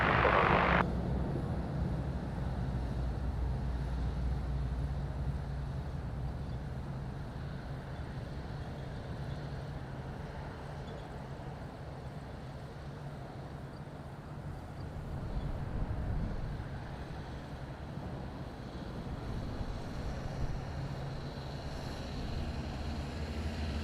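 Wizz Air airliner landing on runway 05 at Madeira Airport in windy weather, a steady low jet engine roar and rushing wind noise holding for the whole stretch, broad and continuous with a slight swell midway and no talk.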